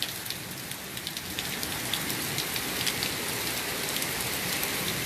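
Heavy rain pours steadily onto a surface in a dense, continuous hiss with scattered drops ticking through it, close and fairly loud from start to finish, with no voices.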